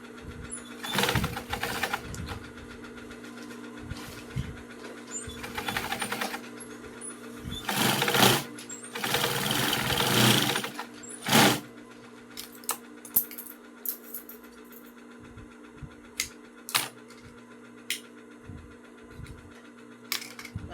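Industrial sewing machine stitching binding onto a school bag, running in bursts of rapid, loud mechanical whirring with pauses between runs and small clicks and taps in the gaps.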